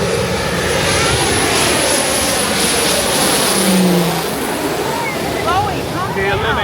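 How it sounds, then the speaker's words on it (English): An airplane approaches over a beach, its engine roar growing steadily as a loud continuous drone and rising whine over wind and surf, with voices murmuring beneath. "Guys, the plane is on its way."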